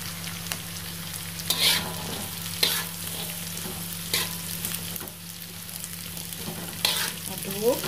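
Sliced jengkol frying in a pan is stirred, a steady close sizzle and hiss with periodic scraping strokes of the utensil every second or so.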